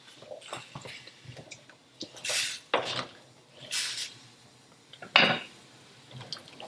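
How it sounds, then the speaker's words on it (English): A spoon stirs vegetables in a cooking pot for fresh fava minestrone, giving several separate scraping, clinking strokes with soft wet shuffling between them. A brief word is spoken. "Use my spoon here to stir these around."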